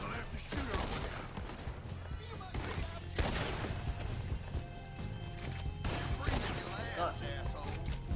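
Red Dead Redemption 2 gunfight with repeated gunshots cracking out at irregular intervals, several sharp loud reports over a busy background with horse hooves and voices talking.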